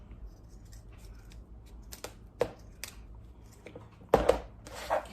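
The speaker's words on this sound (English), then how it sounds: "I'm going to take my pair of scissors and I'm going to cut off the excess zipper" Scissors snip through excess zipper on a homemade pencil case, a series of crisp close cuts and clicks, the loudest ones clustered near the end.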